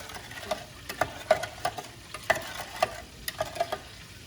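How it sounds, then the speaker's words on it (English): Spoon scraping and stirring in a pot of vinegar and brown sugar warming on the stove, a series of light clinks and scrapes spaced irregularly over a soft, steady background hiss. "And I'm gonna put it in heat together and mix it while I wait for my pot to get warm"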